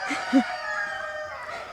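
Chickens on a woodland homestead cluck softly nearby, with a short low cluck standing out over a faint background of bird calls.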